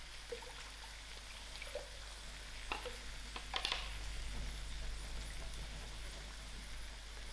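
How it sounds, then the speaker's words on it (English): A quarter cup of water poured into a jug coated with makhani sauce to rinse it, a faint, steady trickle and splash with a few soft clinks against the jug in a quiet kitchen. "I'm also going to add in a 1/4 cup of water to rinse the jug out."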